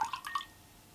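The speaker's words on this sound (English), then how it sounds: "Put a few drops of water into an empty peach dish." A few water drops fall into an empty peach dish, producing three or four quick, soft, close plinks in a quiet room before fading to near silence.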